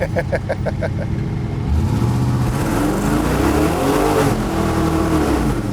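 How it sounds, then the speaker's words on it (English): Engine of a 1953 Studebaker twin turbo custom car revving up loudly, a rumbling idle with rapid pulses swelling into a sustained roar as the throttle opens, close and alone. "Give it a little more throttle and experience the thrill of turbo."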